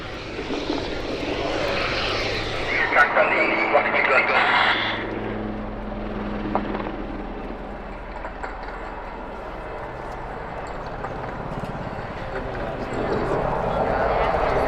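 An Army Air Corps helicopter flying display at RIAT 2025 airshow roars continuously at a distance, its engine and rotor noise rising and falling beneath a commentator speaking over a public address system.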